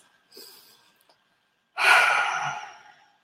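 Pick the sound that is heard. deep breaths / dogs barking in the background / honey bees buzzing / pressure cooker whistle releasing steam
deep breaths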